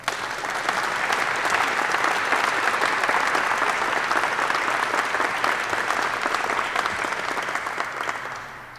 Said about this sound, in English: Please join me in a round of applause for our distinguished visitors and guests.